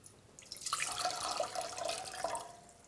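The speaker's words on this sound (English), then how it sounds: "I'm just going to pour it into the saucepan here" Water, four cups for simple syrup, is poured into a saucepan in a kitchen, giving a steady, soft splashing rush for a couple of seconds.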